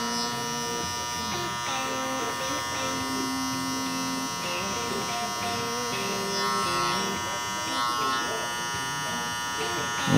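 Electric hair clippers buzz steadily and close up while cutting a burst fade, with the tone shifting as the blade moves, under ongoing talk.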